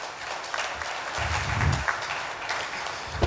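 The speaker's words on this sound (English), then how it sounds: "Let's welcome him with a big round of applause." Audience applause at a corporate tax panel event, steady clapping throughout at moderate volume, heard from within the room.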